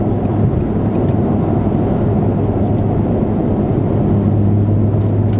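Nissan 350Z/370Z with an Invidia Gemini exhaust cruising in sixth gear, heard from inside the car: a loud, steady low drone with rumbling road noise.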